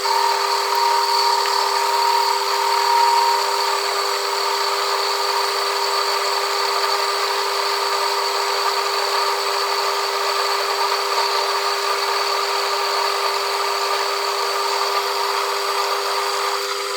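A metal lathe faces the end of a previously turned part for a headstock handle, producing a steady, continuous high-pitched cutting whine at close range with no talking.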